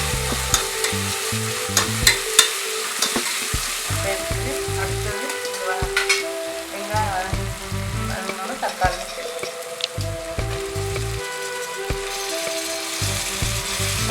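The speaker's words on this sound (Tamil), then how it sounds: "வெங்காயம் நல்லா வதங்கணும் தக்காளியும் நல்லா வதங்கணும்" Chopped onions and tomatoes sautéing in a pan for mushroom biryani, a steady sizzle broken by repeated scrapes and clinks of a spoon stirring against the metal, close and moderately loud.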